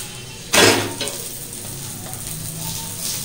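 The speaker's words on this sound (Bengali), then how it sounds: "আমি এটা সর্ষের তেল দিয়ে ভাজছি" Mooli paratha frying in mustard oil on a pan, a burst of sizzle as it goes in, then settling into a steady, fairly close crackling hiss.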